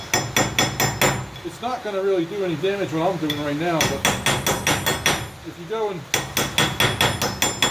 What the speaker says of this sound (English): beating on it with a hammer